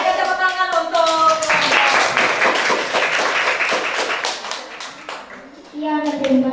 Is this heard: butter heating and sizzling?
no